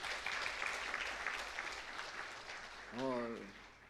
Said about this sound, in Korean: 우리 권사님 건강하시라 박수 한번 더 해드릴게요